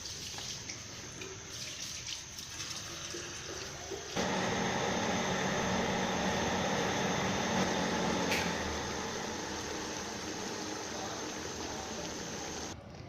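Water is poured from a jug into a pot of mutton, a steady rushing flow that strengthens partway through and then continues as a constant splashing hiss.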